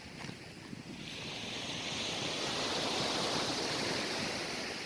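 Ocean surf washes onto a seashore in a steady, full rushing roar that swells and grows louder after the first second and then holds, with no voices.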